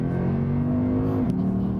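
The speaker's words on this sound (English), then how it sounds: "At the higher reaches of the rev range, and with a fair bit of throttle, I do believe this car's claimed 100 milliseconds for the gear shifts." A 2013 Lexus IS F engine holds a loud, steady high-rev drone at close range. It dips briefly as a fast gearshift cuts in, then pulls again, with no talk over it.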